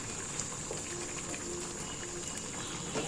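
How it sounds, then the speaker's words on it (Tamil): Masala gravy boils in a pot with a steady bubbling simmer at low, even volume. Soft popping textures rise and fall throughout. "நல்லா கொதிக்க ஆரம்பிச்சிச்சு பாருங்கள்."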